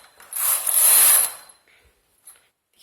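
A knitting machine carriage sweeps across the needle bed while knitting a lace (jali) pattern. One loud, rasping, clicking pass lasts about a second, followed by a few faint ticks, with no talk.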